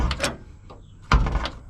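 The creaky door of an old GM car swings open with a clunk and a rattle of worn hinges, heard close and loud with no talking.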